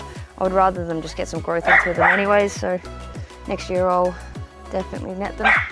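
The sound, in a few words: dog barking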